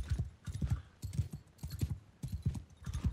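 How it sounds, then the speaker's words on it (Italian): Horse hooves clip-clop at a steady walking pace in the medieval game Mount & Blade II: Bannerlord, a close rhythmic series of soft thuds repeating throughout. "C'è il cavallo davanti, lo puoi spostare."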